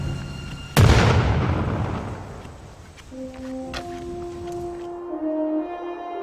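A single loud cannon blast booms out once, near and powerful, with a long rumbling decay that fades over several seconds, followed by faint lingering tones.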